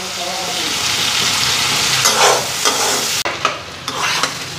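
Onions fried and stir-fried in a pan give a steady loud sizzle, close up, with several scraping stir strokes and a brief break near the end; no talk.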